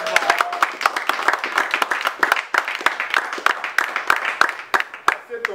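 Applause breaks out at a formal ceremony, a small group clapping in sharp, uneven bursts up close, with a voice talking over the claps.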